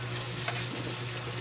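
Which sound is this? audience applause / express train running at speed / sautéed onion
sautéed onion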